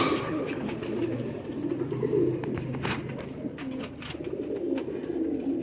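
A group of Rampuri pigeons, an adult pair with three young, give soft, repeated low coos at close range against a quiet, muffled background.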